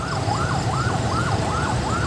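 An ambulance siren wails in steady repeating up-and-down sweeps over heavy traffic in Lucena, Quezon, loud and close with a low engine rumble beneath.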